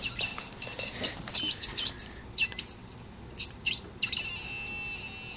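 Snap Circuits Extreme electronic circuit giving off faint, bird-like chirps as a finger lightly moves across it, short high squeaks and tweets in irregular bursts over a low background hiss.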